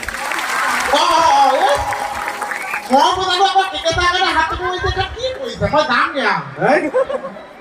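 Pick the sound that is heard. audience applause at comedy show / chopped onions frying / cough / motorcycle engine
audience applause at comedy show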